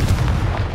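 A Confringo fire spell in Hogwarts Legacy bursts with a loud, brief booming blast, a single heavy low thump that rings out for under a second.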